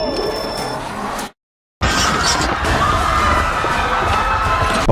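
A Lego car sent down a ramp smashes through ten layers of Lego brick walls, a clattering crash of plastic pieces followed by a brief silence and then a sustained rush of scattering bricks and noisy commotion.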